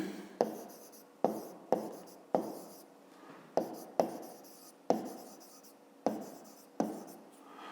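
A pen writing out fifth-grade math homework by hand on paper, about a dozen distinct strokes each starting with a sharp tap and trailing scratch, close and steady with no talk.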